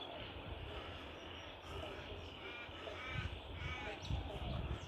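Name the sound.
crows cawing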